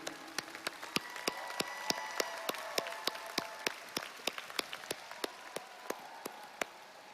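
Audience applause at a corporate convention closing session for a rock band: sparse, distinct claps ringing out one by one at a steady pace, moderately faint, with no talk over them.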